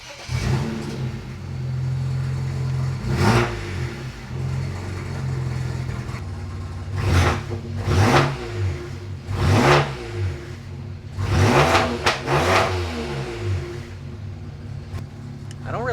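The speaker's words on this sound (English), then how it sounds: "And now let's start the car up again." BMW 335i with an N54 engine, refitted with used injectors, cranks up and revs, the engine note rising in several distinct surges over a steady running drone.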